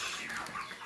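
Broiler chickens on a poultry farm, clucking and chattering as a steady, fairly close flock over the full short moment, with no talk.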